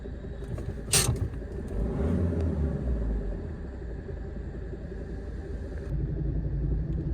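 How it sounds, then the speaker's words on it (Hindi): Steady, loud low rumble and rattling vibration inside a moving Honda Amaze car with a faulty steering rack, continuous throughout with a brief sharper knock near the start and no talking. "खड़खड़ सुनो।"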